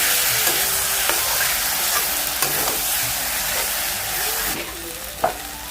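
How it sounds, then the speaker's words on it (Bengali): Ground spice paste for a lata fish curry with mustard seeds, curry leaves and tomato sizzles steadily in a hot pan, with occasional spoon scrapes and stirring clicks over the continuous frying hiss. "সবগুলো মশলা একসঙ্গে আমি বেটে রেখেছি, সেগুলো দিয়ে দিয়ে ভালো করে কষিয়ে নেব"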